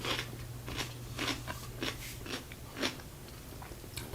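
Crunchy pickles being bitten and chewed close to the mic, about eight distinct crisp crunches spaced irregularly over a low steady hum, with no talking.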